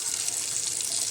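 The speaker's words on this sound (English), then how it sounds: "We'll turn on some water." Tap water pours steadily into a kitchen sink fitted with a garbage disposal, a continuous close hiss and splash of running water with no pauses.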